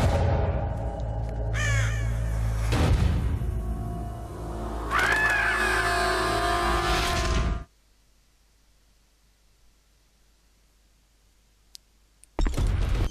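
A crow caws repeatedly inside the Metal Gear Solid The Twin Snakes video game, loud and close over a droning game soundtrack, with one harsh burst early and another around the middle before the audio cuts to near silence.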